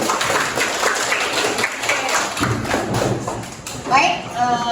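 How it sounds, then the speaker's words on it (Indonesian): Classroom applause from students, a dense spread of clapping that holds steady for several seconds with a brief louder swell near the end and no talk over it. "kasih dulu aplaus deh"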